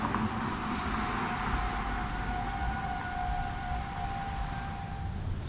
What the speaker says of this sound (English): the storm sirens are going